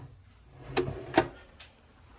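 A hotel suite drawer slides and knocks shut in two or three soft wooden clunks, close and fairly quiet over a faint room hum.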